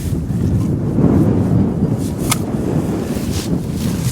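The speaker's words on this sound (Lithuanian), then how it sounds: "Vėjas žiauriai pučia." Strong wind gusts across an open field during metal detecting with an Equinox 900 detector, a steady loud roar buffeting the microphone throughout with a brief sharp tick midway.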